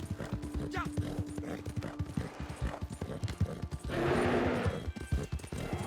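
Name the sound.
horse hooves and neigh in video game Red Dead Redemption 2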